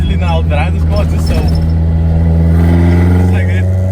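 Opel C20XE four-cylinder engine with throttle bodies, heard from inside the car as a loud, steady droning hum with strong low harmonics while someone talks over it.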